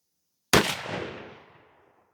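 A single loud, close shotgun blast from a Remington 870 with a 24-inch barrel firing a Fiocchi Golden Turkey 3-inch 12-gauge shell, a sharp report followed by a decaying echo trailing off over about a second and a half.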